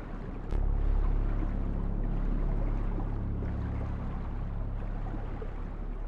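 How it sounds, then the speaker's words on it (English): A boat moves through water in the GTA Online Cayo Perico heist, with a steady low engine drone and water wash held evenly throughout, no voices. "boat's in the water. Be careful."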